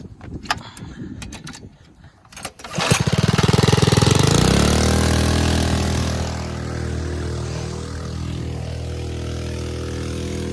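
An Apex Max Pro gas-powered soft wash system's engine starts up after a few rattling pulls, then roars loudly and steadily nearby, settling into a constant drone.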